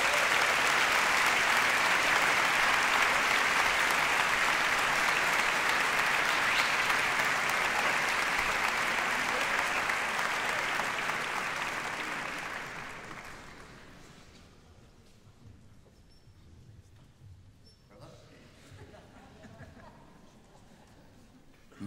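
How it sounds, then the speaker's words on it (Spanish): Enthusiastic applause from the audience at a Christmas charity concert, sustained and full for about twelve seconds before fading out, with quieter room sound and some talk remaining afterward. "¡Fuerte el aplauso!"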